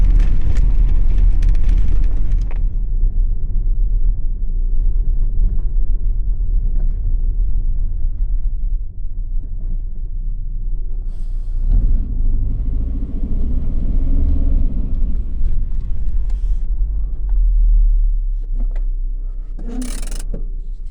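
A car drives along and turns into the road leading to the dump, with a loud, steady engine and tyre rumble close by throughout and a brief sharper noise near the end.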